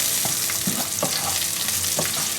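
Garlic sizzles steadily in hot oil in a pan, a loud continuous frying hiss with occasional scraping and tapping from stirring, close and without talk.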